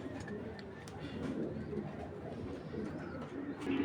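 Cooing from a cream-eyed female Gangchil pigeon, low soft murmuring calls repeating steadily at close range against a busy background, with faint talk in places.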